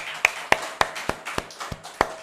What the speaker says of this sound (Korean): 모든 영광 하나님께 영광의 박수를 올려드립시다